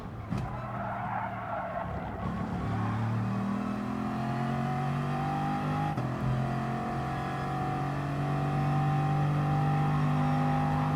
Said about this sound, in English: So yeah, very fast cars in this race, these Bugatti Veyrons